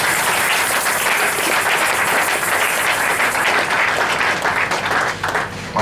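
Loud, continuous applause from an audience at a religious deliverance service. The thick clapping carries on for several seconds with little change, then thins briefly near the end.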